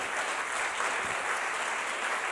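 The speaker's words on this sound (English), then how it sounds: "Keep on clapping." A church audience claps steadily at the end of a sermon, a dense, even wash of many hands filling the room with no voice heard over it.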